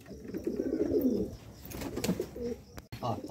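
Fantail pigeons cooing on a nearby roof at night, a few soft low throaty coos in short rounded phrases, fairly close and moderately loud against a light background hiss.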